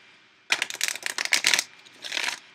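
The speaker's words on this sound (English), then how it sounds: "Let me do one more shuffle." A deck of tarot cards is shuffled by hand, a close, crisp burst of rapid riffling flutters lasting about a second, then a shorter second shuffle after a brief pause, with no talking.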